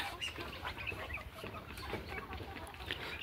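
A flock of older roosters and hens of a good breed, kept on a poultry farm, cluck and crow together in a steady, busy chorus over a dense background of farm noise.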